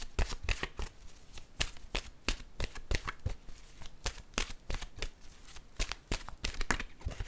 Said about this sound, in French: je vais maintenant piger une carte de mon oracle de l'âme intuitive